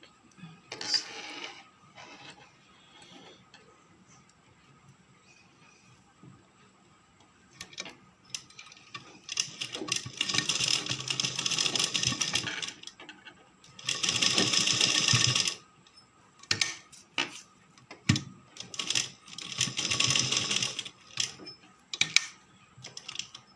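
Sewing machine stitching a small fabric face mask made from leftover scrap cloth, rounding a seam for elastic; quiet ticking at first, then close bursts of rapid mechanical stitching with pauses between runs.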